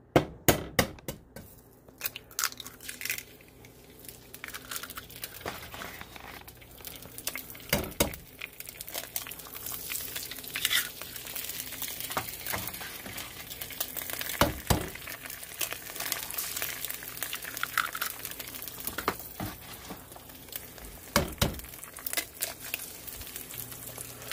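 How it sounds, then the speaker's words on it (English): Four jumbo eggs fry in freshly cooked bacon grease, giving a continuous crackling sizzle with scattered sharp pops, close and fairly quiet, with no talking. "we got 4 eggs sizzling in some just freshly cooked bacon grease"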